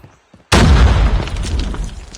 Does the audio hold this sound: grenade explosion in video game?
yes